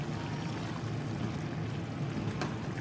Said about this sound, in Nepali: पानी छर्किरहेको छ।